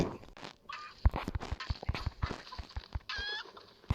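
Chickens in the video game Utopia Origin cluck and squabble in short, irregular bursts, with a few sharper squawks mixed in. The sounds are close and fairly loud, and no one speaks.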